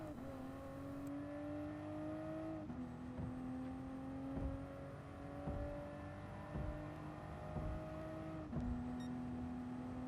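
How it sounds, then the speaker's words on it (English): Toyota GR Supra race car in Gran Turismo Sport, engine note climbing steadily through the gears with sharp drops at each upshift, loud and continuous with no talk. "get the car to quickly rotate and then start to fully accelerate"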